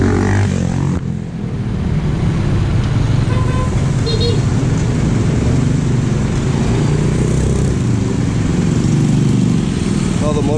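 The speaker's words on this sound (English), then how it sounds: "Motorcycle riders right here" Motorcycles and cars pass steadily on a road outside an airport, a continuous loud roar of engines and tyre noise with a brief horn toot, close and unbroken throughout.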